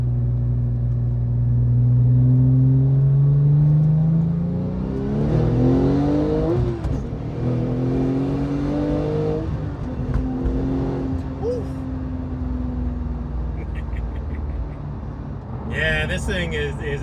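A Porsche 911 Turbo engine builds from a low rumble into a loud rising rev, with gear-change dips and several climbs in pitch, all heard from inside the cabin; brief talk comes partway through.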